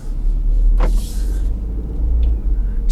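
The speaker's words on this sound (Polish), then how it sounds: "słychać wyraźnie, że to nie jest silnik czterocylindrowy, tylko trzycylindrowy" A three-cylinder engine in a new Hyundai Tucson or Peugeot 3008 rumbles low and loud as the car pulls away, with a brief whirring sweep and a light clunk near the start.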